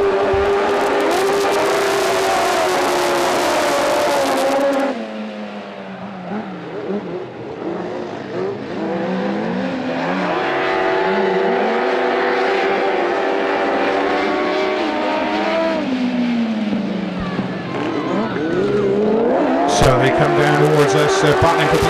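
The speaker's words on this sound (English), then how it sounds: "we get away with the sidecars" Racing sidecars set off and race past at a motorcycle meeting, their engines roaring and rising in pitch with a burst of revving at the start, under continuous commentary.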